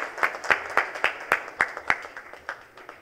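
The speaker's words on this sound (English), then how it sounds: "Come on, a big round of applause for Yusuf ji, please." Audience applause at a live event, a modest crowd clapping in a loose, uneven rhythm of distinct claps, fairly close and steady throughout.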